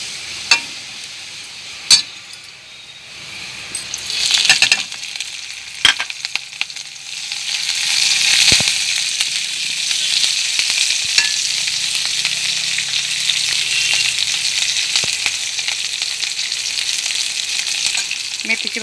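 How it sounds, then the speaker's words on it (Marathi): Garlic and chilli fry steadily in hot oil for methi bhaji, a continuous bright sizzle with occasional stirring clicks and pops that grows louder partway through. "आता आपलं लसूण तळून झालं"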